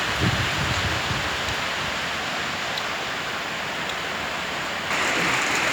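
Storm rain falls steadily in a rural northeastern Thai setting, a broad even hiss with no voices, swelling slightly louder near the end.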